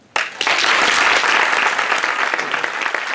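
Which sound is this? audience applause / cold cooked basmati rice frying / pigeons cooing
audience applause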